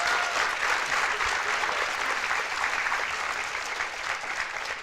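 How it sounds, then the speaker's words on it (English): A crowd at a teen town hall event gives a steady round of applause for a guest, a continuous wash of clapping heard from within the room that tapers slightly toward the close. "let's give a round of applause to Mr. Elijah"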